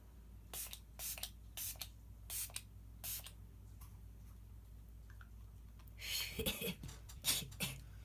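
Several short bursts of a makeup setting spray bottle misting, spaced at irregular intervals, followed by a cluster of quicker sprays; close and fairly quiet.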